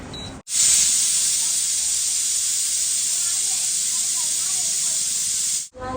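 A pressure cooker boiling dal vents a loud, continuous whistle and steam hiss lasting several seconds, starting abruptly and cutting off near the end, heard up close without talk.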